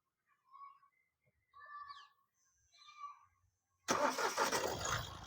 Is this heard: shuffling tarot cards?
no